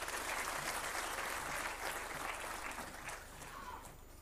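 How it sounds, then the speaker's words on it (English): An audience at a World Telecom Day 2023 ceremony applauds to welcome a speaker to the stage, a dense, sustained round of clapping that fades slightly toward the end. "Let us welcome sir with a round of applause."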